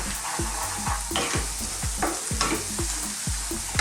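Spices toast in a hot pan for a mushroom peas curry, a loud, steady sizzle punctuated by a regular rhythm of thudding stirs and scrapes, close and with no talk.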